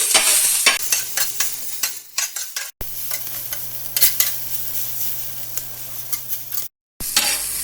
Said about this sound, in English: Spread the onion to all the sides nicely, all the sides of the tawa.